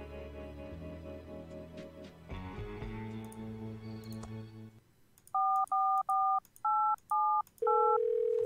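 In the video game Thimbleweed Park, music plays, then six short, clear telephone dialing tones beep in quick succession and end on a longer tone.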